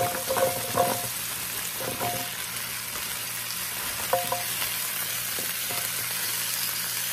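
Onions and garlic sizzle in a pan beside a browned rump roast, a steady wash of frying hiss with a few clinks and scrapes of stirring, close and continuous with no talking.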